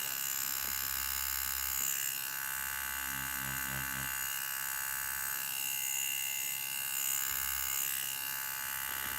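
Bronc X2 Neo tattoo machine with adjustable stroke running steadily, a continuous close electric buzz with slight shifts in pitch and intensity throughout, no speech over it.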